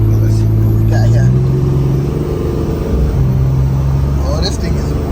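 A Dodge Cummins diesel pickup with a CTS3 Edge tuner accelerates in second gear at half throttle, a loud, deep, steady engine drone with rising pitch, heard from inside the cab.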